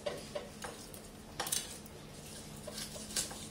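A chunky kitchen knife chops the head off an already-descaled fish on a board, giving a few sharp knocks and scrapes at irregular intervals over a faint background hum.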